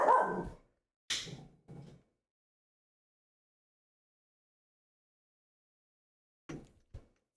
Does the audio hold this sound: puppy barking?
yes